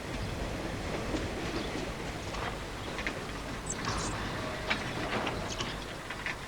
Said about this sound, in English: the blue train stops at Taos River to change engines